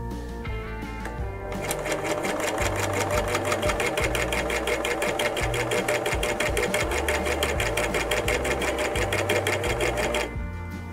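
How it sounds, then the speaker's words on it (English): An overlock machine stitches the fabric edge of a grocery shopping bag: a close, loud, steady run of rapid mechanical whirring and ticking that starts after a quiet second and stops near the end, with no talk over it. "the bottom threads, which are the last 2, will tighten as you sew in the overlock machine"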